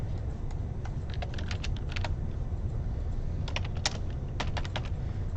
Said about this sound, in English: That's so much typing